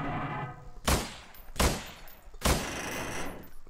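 Three loud, booming gunshots from a video game, evenly spaced under a second apart, each with a long decaying tail over a low background.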